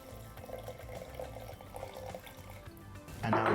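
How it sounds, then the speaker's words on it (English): Sparkling water is poured over about 200 ml of chilled, pre-brewed spiced chai in a glass for a ginger fizz. It gives a continuous fizzing, splashing pour under background music, with a louder gush of liquid near the end. "now we're just going to finish that with our sparkling water"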